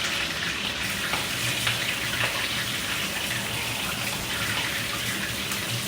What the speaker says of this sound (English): Since the pan is not big enough, we have to fry the fish one at a time